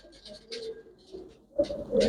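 A Lakka pigeon coos in soft, low repeated notes, close by, with faint background noise and brief rustling, and no speech.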